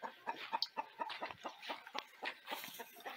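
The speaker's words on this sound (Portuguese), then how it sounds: "Tem outras galinhas aí, ó. Se acomodando pra subir aí, ó, nessa árvore aí." Chickens settle to roost in a tree on a farm, giving a quick run of soft, rhythmic clucks close by, about a dozen short calls in a few seconds.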